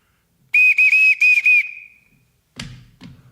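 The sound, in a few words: whistle blown to summon people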